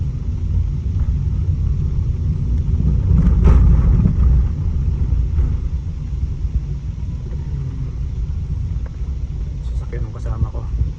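Low, continuous rumble of a company car's engine and road noise while driving, with a brief swell in the middle and a voice speaking over it.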